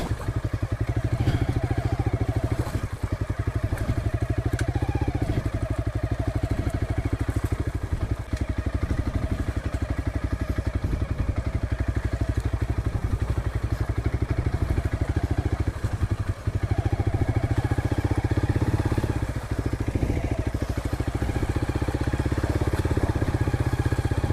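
A motorcycle rides along a rocky stream toward a waterfall in Tha Song Yang, Tak, Thailand, its engine a steady close drone mixed with splashing and clatter from the water and stones.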